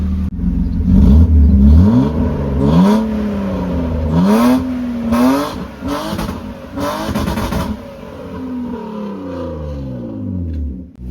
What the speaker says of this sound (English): We got some wonky shit going on with the AC.